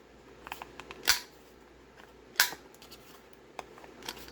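A corner punch rounds the corners of paper journal cards at a 7mm setting, giving two sharp, close clicks about a second apart, with small rustles and taps of card handling around them.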